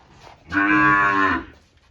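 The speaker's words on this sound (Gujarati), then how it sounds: "કાઠિયાવાડી વાછડી" A young Kathiawadi heifer calf gives one loud, close moo lasting under a second, with quiet surroundings before and after.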